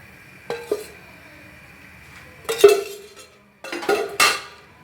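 A metal frying pan clatters and scrapes in three separate bursts of handling, close by, with quiet pauses between.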